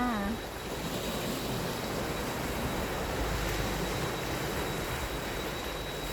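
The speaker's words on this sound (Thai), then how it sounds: "ทะเล บ้านเราเองนะคะ ทะเลอันดามันค่ะ" Waves wash steadily along the Andaman Sea coast at Khao Lak, a continuous broadband roar of surf with wind noise and no clear individual breaks, loud and close throughout.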